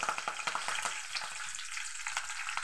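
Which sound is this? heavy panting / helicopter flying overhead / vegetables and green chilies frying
vegetables and green chilies frying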